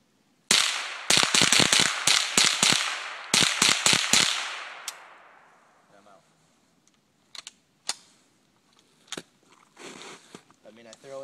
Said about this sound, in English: I mean, I thoroughly enjoy shooting this gun.